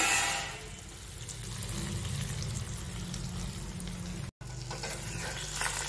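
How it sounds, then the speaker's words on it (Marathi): Curry leaves and peanuts frying in hot oil in a full pot, a steady close sizzle and crackle running throughout with a brief dropout near the end. "हा कढीपत्ता पूर्ण तळला गेला, शेंगदाणे तळले गेले."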